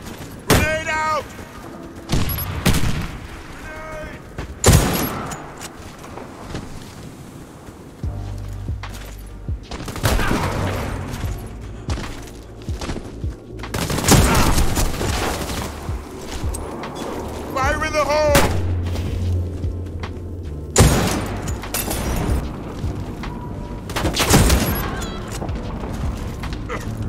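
Gunfire and grenade blasts from the online shooter Warface during a bomb-defusal round: dense volleys of shots and heavy booming explosions keep recurring across the whole stretch, loud and close, with voices talking over the battle.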